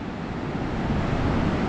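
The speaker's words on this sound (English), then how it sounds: "Just listen to the waves." Steady surf washing onto a pristine white beach at Stilbaai, South Africa, a continuous broadband roar with no distinct breaks, close and fairly loud with a hint of wind.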